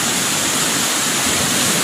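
A clean river flows with a steady, broad rushing wash that stays loud and even throughout, with no voices.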